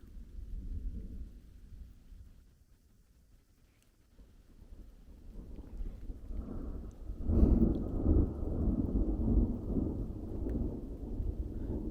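Thunderstorm on the Continental Divide Trail near Flesher Pass in Montana, with deep rolling thunder rumbling softly, fading, then swelling into a louder, sustained roll over steady rain and wind, no voices.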